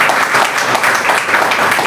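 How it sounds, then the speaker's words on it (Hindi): Audience applause at a women's day celebration, a loud, dense and steady clapping from a large crowd filling the whole moment without any talk. "तालियां मजबूत हो।"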